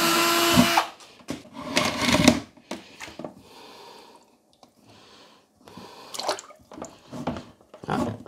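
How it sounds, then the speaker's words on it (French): A power drill bores a 4 mm hole for an electrical cable during cooling-circuit setup, sounding in short loud bursts separated by quieter gaps and fainter whirring. "je fais un trou de 4 mm à côté pour le câble électrique"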